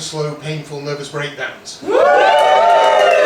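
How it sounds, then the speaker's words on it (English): An audience in a comedy show breaks into a burst of cheering and applause that holds steady after a spoken line. "can we have a quick cheer"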